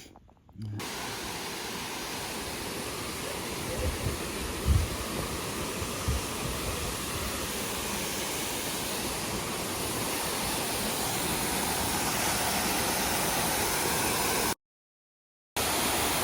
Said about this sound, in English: Ricky is enjoying Long Creek Falls.